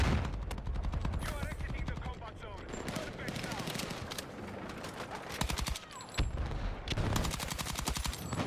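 Gunfire rings out throughout a Battlefield 6 match, sharp repeated shots and automatic bursts close to the player, including the sniper fire that hits them, with a voice occasionally talking beneath the combat.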